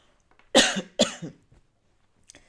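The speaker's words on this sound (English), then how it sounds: "that's me having a little coughing fit there" Two harsh, close coughs in quick succession, then a faint third one after a short pause in otherwise quiet surroundings.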